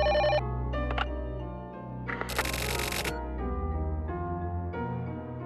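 A telephone rings in The Silver Case, bright tonal bursts repeating over a steady droning game background, with one loud broadband jangle in the middle of the ring sequence.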